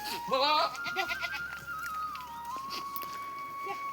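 Goats on a hillside farm give a loud bleat near the start, followed by quieter bleats and faint calls against steady background noise.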